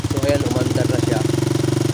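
A motorcycle engine with a grounding fault runs at a steady idle close by, a throbbing pulse continuing through the clip while someone talks over it.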